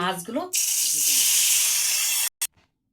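Eggplant hits hot oil in a wok after fish was fried in it, giving a loud, steady hiss for about two seconds, then a brief burst before it cuts off. A voice speaks just before the sizzle.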